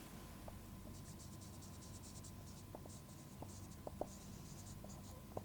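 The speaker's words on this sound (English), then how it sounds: "Let us write this statement" Pen scratching across paper while a statement is written by hand, a soft faint stroke texture with occasional light taps, alone with no voices.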